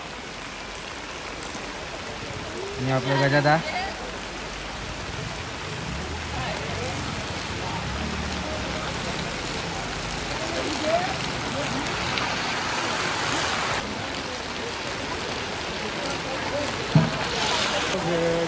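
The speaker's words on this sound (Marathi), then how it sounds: "बघू शकतात काय पाऊस पडता" Heavy rain falls steadily in a continuous broad hiss at a Kanur market, with someone speaking briefly and a few soft knocks above the downpour.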